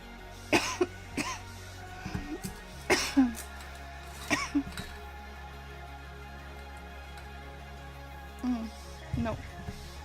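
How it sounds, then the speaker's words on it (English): Repeated short coughs and throat clearing from one nearby person, sharp bursts scattered across the stretch with quiet gaps between them and some soft speech mixed in. "Sorry guys for coughing."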